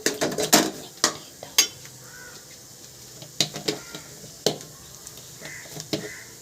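A spoon scraping and clinking in a pan while fish curry masala is stirred for a Kerala choora (tuna) fish curry: sharp, irregular metallic taps and scrapes, close and fairly loud, with quieter shuffling between them.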